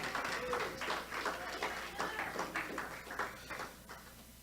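Church congregation clapping, a dense rhythmic round of hand claps filling the room, loud at first and gradually thinning out, with a voice partly audible under it.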